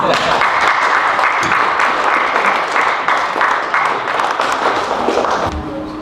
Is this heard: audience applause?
yes